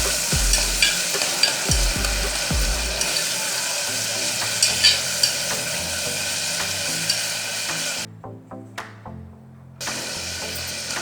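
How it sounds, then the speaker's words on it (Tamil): Onions sautéing in a pan for a Tamil-style mutton bone marrow soup, with a loud, close sizzle, repeated scraping stir strokes and utensil knocks, then a brief dip before the frying resumes. "வெங்காயம் சேர்த்துக்கோங்க. இதை லைட்டாக வதக்கி விட்டுருங்க."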